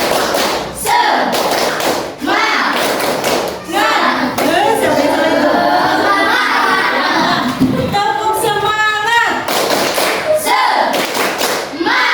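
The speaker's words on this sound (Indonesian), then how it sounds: "Tepuk semangat." Schoolchildren in an Indonesian classroom perform a rhythmic spirit clap, sharp patterned bursts of hand claps and thumps alternating with their chanting voices, loud and close throughout.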